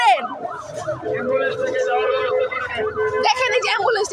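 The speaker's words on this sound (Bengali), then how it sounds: "এই যে এখান দিয়ে অ্যাম্বুলেন্স নিয়ে যেতেছে" An ambulance siren passing close by on a street during unrest in Bangladesh, its rising and falling wail loud and continuous, with a second siren tone joining near the end and faint crowd noise beneath.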